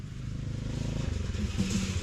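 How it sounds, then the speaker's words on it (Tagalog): A motorcycle engine hums and putters at moderate distance, fairly faint and steady with slight rises in pitch. "Naririnig ko na yung motor ni Kuya Amang, ah."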